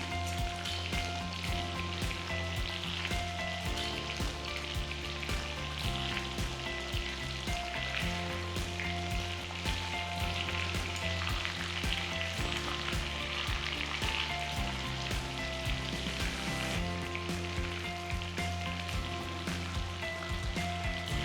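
Sesame chicken pieces fry in oil for a honey-glazed dish, making a dense, even sizzle that crackles continuously up close, fairly quiet and without any voices.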